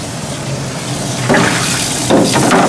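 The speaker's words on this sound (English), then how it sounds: "this time I'm going to use running water" Water runs from a sink tap over a photo print to wash off bleach, a steady close hiss that swells louder in bursts as the stream hits the print and tray.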